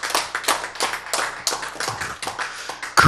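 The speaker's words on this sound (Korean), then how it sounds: "박수." Rhythmic group clapping from a church audience, loud and close, with regular beats at an even tempo and little else in the background.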